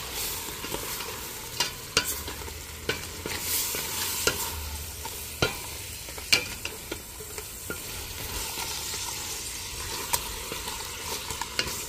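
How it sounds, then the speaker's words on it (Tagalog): Crabs sautéing in a pan with onion, garlic and ginger, with a soft steady sizzle broken by repeated sharp spatula scrapes and clicks, close and fairly quiet, no voices. "Ito na po yung ating crabs. Ginisa ko na siya sa sibuyas, bawang, tsaka luya."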